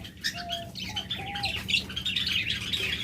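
Pet lovebirds or budgerigars in a caged breeding pair, a busy cluster of short chirps and squeaky calls with wing flutters, close and fairly loud, with no talk.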